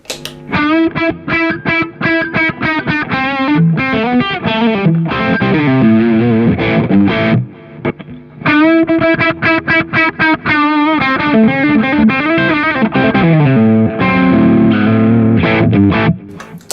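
An electric guitar driven through a Nordland ODR-C overdrive pedal with mids and ODC boosted, playing loud, close, gritty chords and riffs with a brief pause midway, no talk.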